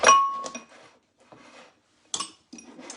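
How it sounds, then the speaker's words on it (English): An egg is cracked into a separate glass container. Light, sharp clinks of shell against glass stand out, followed by a few softer taps and rustles at close range in a quiet kitchen. "I always like to open my egg in a separate container"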